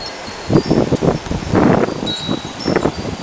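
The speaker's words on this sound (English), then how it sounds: "It's so windy." Strong wind gusts through leaves in bursts, loud surging rustles that rise and fall in waves close to the microphone, with some wind buffeting.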